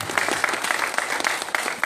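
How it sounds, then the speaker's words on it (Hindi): Applause from a seminar audience, a dense, steady clapping of many hands lasting a couple of seconds. "श्रीमान जय नारायण जी कुकना राजस्थान से, आपकी जोरदार तालियों के बीच में मैं उनको इन्वाइट करता हूँ।"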